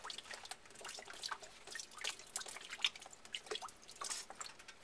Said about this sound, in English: there's a little water coming out of this one still